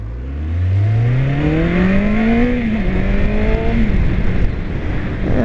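A car overtakes a motorcycle rider on a road, its engine rising in pitch as it accelerates and draws close, then easing as it passes, loud over steady wind and road noise.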